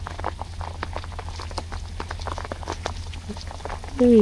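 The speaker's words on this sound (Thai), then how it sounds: "อ๋อฝนตกใหญ่เลย" Heavy rain falling outdoors by a fishing pond, a dense continuous patter of drops at an even level throughout, with a brief tonal sound near the end.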